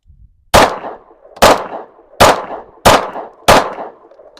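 Five loud, close pistol shots from a Rost Martin RM1C firing Winchester forged steel-cased ammunition, fired at a steady pace outdoors. Each crack rings out briefly before the next.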